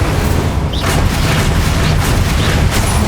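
The Incendio fire spell blasts through combat in Hogwarts Legacy, a dense, roaring burst of fiery noise with booming, crackling texture that fills the whole few seconds at a loud, constant level.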